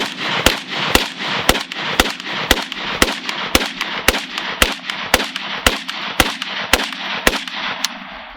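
A DPMS AK rifle with an Anvil trigger fires off the rest of its magazine: about fifteen sharp, loud, single shots at a steady pace of roughly two per second, each followed by a short echo.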